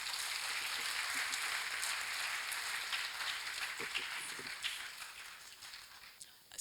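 An audience at a conference session on the future of work applauds as a speaker comes on stage, a faint, distant wash of clapping that stays even, then thins and fades toward the end.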